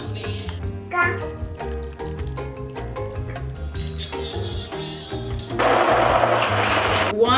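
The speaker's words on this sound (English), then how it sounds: "Then we're gonna give it another whoosh with the blender." A kitchen blender runs as it blends tahini into a paste for hummus, a steady close whirring that grows louder and harsher near the end, with some clattering and mixed background sounds.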